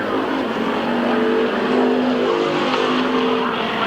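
Race cars roaring around the oval at Midvale Speedway in 1993, a steady loud engine drone with overlapping cars droning past throughout, no talk heard.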